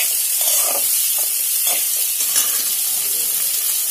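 Continuous hissing sizzle of onions sautéing in hot oil for chicken curry, close up, with soft intermittent stirring scrapes beneath the steady frying noise.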